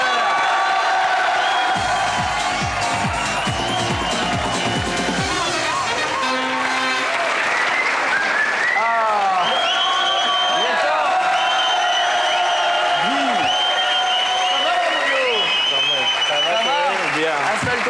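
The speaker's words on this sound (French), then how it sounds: "Je vous demande d'applaudir." A French television studio audience applauds and cheers as a guest rapper is brought on, with loud music and whoops layered over the clapping and voices rising through it.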